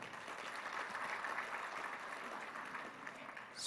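An audience at a Balinese governor's speech claps in steady, even applause that fills the room for a few seconds, with no voices.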